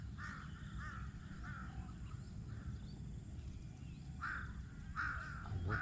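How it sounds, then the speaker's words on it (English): Crows caw outdoors, a few harsh calls at the start and another pair near the end, moderately distant over a low rumbling background. "I'm watching these crows, man."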